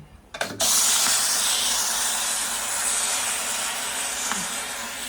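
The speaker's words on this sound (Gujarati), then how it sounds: "મારી કુકરની સીટી પડી છે" A pressure cooker with rice inside lets off a loud, steady rush of steam through its whistle in a home kitchen, rising sharply after a brief clatter and hissing on continuously without pause.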